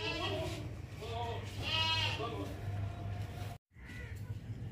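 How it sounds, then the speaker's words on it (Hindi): A large, heavy black Chinese goat bleats in wavering cries, close and fairly loud, with someone talking over and between the calls. "खूबसूरत बकरा है, बड़ा बकरा है, वजनी।"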